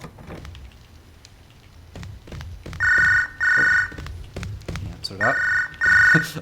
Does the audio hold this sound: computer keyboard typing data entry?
no